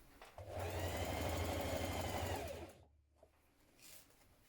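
A sewing machine runs a regular stitch along a trouser crotch seam, with one steady, close mechanical whir of about two and a half seconds that stops, followed by faint handling sounds.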